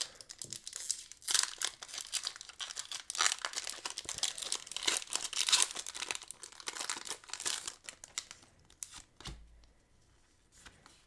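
Pokemon TCG Crown Zenith booster foil pack torn open close up, a long run of loud crinkling and tearing rustles with sharp crackles, easing off into quiet near the end.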